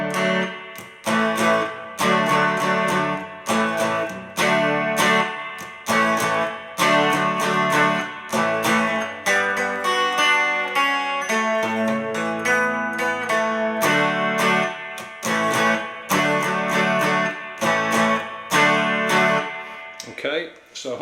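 Electric guitar playing a song slowly, with reverb and chorus on the tone, strummed chords in a repeating rhythm and a brief single-note passage midway, loud and close with no talking.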